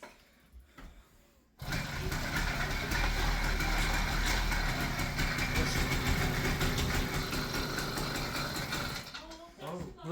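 An 80cc motorized bike engine, long unused and hard to start, fires up and runs steadily with a loud, continuous buzzing rattle close by, after a brief quiet lead-in, then cuts off near the end.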